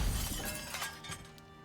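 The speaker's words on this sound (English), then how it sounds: "I don't like the sound of the glass." A glass piece set down while building a small green house in the survival game Icarus gives a brief, bright, shattering clink that starts loud and fades quickly.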